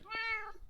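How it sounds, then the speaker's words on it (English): A single short meow from a Minecraft cat, clear and fairly faint, heard alone. "You can probably hear some cat meowing every now and again"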